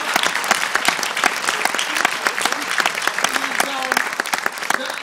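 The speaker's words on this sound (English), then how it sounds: "I would like some applause for saying" Audience at a comedian's evening show applauds steadily and loudly, a dense wash of clapping throughout with a few voices calling out over it.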